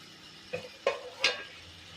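A few scraping stirs of beaten, salted egg with tomato in a pan, three soft distinct strokes over a faint background hiss.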